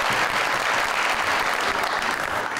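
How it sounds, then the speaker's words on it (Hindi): Studio audience at a Pakistani TV talk show applauds, a dense, continuous clapping that stays at an even, fairly close level for the whole stretch. "बहुत सारी तालियों में।"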